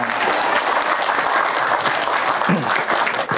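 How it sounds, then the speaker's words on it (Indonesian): Crowd applause at a large open-air religious gathering, with dense, steady clapping from many hands filling the whole stretch at close, loud level. "Tepuk tangan ngapa?"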